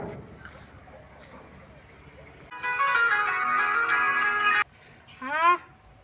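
An electronic phone ringtone plays for a couple of seconds after a stretch of quiet voices, then cuts off, followed by a brief warbling tone.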